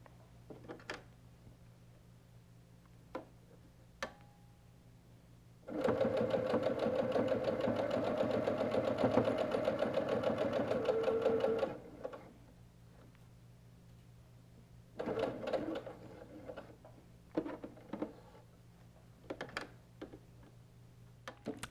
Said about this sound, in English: I'm only going to sew up to that red pin